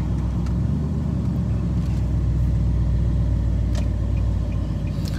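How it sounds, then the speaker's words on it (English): A Nissan Titan pickup truck's engine runs at a steady idle, a loud continuous low rumble throughout with no voices present. "I got it running. It's running good."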